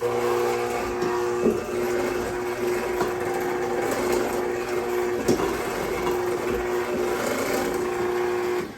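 An electric mixer beats almond flour cake batter for an apple cake, with a steady whirring motor hum and occasional rattling knocks of the beaters against the bowl, close and continuous.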